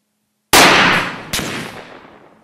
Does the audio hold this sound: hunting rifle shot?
yes